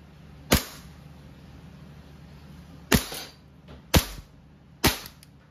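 A WE Hi-Capa T-Rex airsoft pistol fires four separate semi-automatic shots, each a sharp, close crack with a short gap between, the first spaced well apart from the rest against a quiet background.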